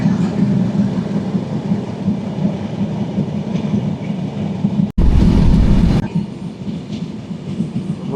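The Sundarban Express, running from Dhaka to Faridpur, rumbles loudly and steadily along the rails, with a brief, harsher surge of noise partway through before the even roar resumes.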